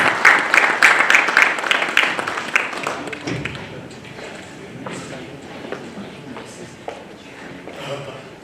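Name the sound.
audience applauding and clapping hands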